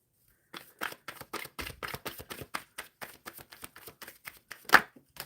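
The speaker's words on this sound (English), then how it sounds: "let me give this a quick shuffle" A deck of tarot cards being shuffled by hand during a reading, a run of quick, crisp riffling bursts in a fairly regular rhythm, close and clear with one louder snap near the end.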